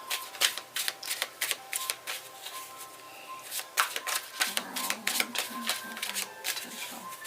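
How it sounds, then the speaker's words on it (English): Tarot cards being shuffled by hand, giving a run of quick, papery riffling bursts at close range, repeated several times with short pauses between them and no talking. "Three shuffles."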